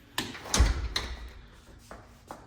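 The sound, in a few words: hinged glass front door opening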